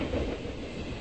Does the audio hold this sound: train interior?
yes